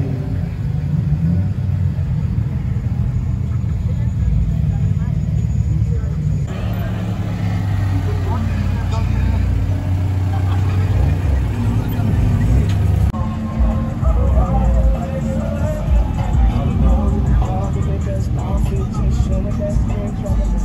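Cars roll into a Cars and Coffee meet, a continuous low engine rumble with passing vehicles rising and fading, while people talk nearby.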